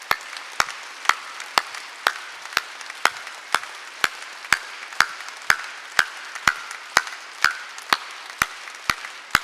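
Steady rhythmic hand clapping from a church congregation during a Wednesday worship service, with sharp, evenly spaced claps about twice per second throughout, moderately loud and with no talk over it.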